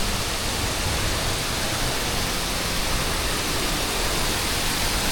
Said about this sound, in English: Waterfall from the roof.